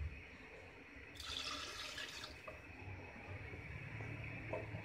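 Water poured into a pot of chicken biryani, a soft splashing pour that starts abruptly and runs on quietly over low background noise.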